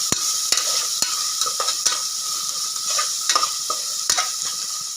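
Ginger garlic paste sautéing in hot oil for chicken biryani, a loud close sizzle broken by repeated sharp scrapes and taps of a spoon stirring against the pan, no voices.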